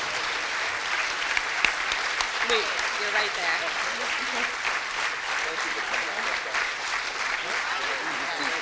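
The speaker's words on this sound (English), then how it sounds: "You got a standing applause already." Sustained applause from a large audience at a charity gala, a dense steady clatter of clapping throughout with a few voices speaking close by over it.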